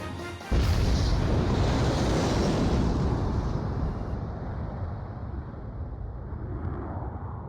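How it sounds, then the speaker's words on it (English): A cruise missile strikes a mass driver in the video game Ace Combat 5, a sudden loud blast breaking in after half a second and swelling into a long, broad rumbling roar that slowly fades while staying strong. "Mass driver hit by cruise missile."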